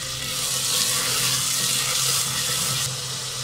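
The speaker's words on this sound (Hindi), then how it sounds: "हल्का सा पानी का छटा मार दूँगी मैं इस पर।" Water splashed into a pot of cooking masoor daal with finely chopped tomato, giving a steady close broadband hiss and sizzle with no talk over it.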